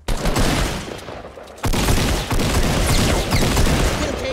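Dense, loud bursts of rapid gunfire in Fortnite, continuous volleys with a brief lull before the shooting resumes at full intensity.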